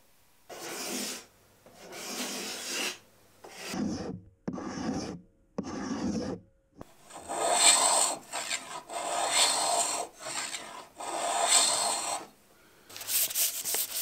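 A wooden katana blade is sanded by hand in repeated rasping strokes, some short and some long, close and clear with brief pauses between passes.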